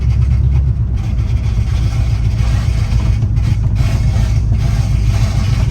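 A Chevy Bel Air with a 265 V8 drives with its exhaust dragging, giving a steady low engine rumble and rough scraping noise close by, without speech.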